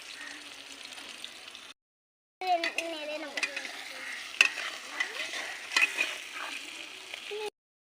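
Potatoes are fried and stirred in a pan, giving a close, continuous sizzle with irregular spatula scrapes and clinks, broken by a short silent gap before the frying resumes and carries on.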